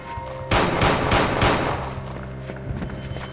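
Four quick gunshots from Resident Evil 2 on the original PlayStation, loud and evenly spaced, each a sharp crack with a short ring-out that fades into a quieter game ambience.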